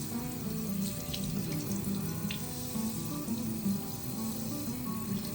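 Tap water running over a kohada fish being rinsed at a sushi restaurant, a steady close stream splashing and gurgling continuously with slight shifts as the fish moves under it.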